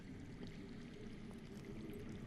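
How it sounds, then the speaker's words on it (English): Faint, continuous rush of water flowing somewhere underground, a steady distant trickling stream without talk. "I hear water. From underground."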